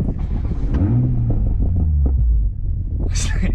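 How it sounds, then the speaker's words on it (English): A 2020 Toyota Supra engine, heard from inside the car, gives a deep, close rumble that swells as it revs, then settles to a steady throbbing idle. "We are in the car now. Let's start it up."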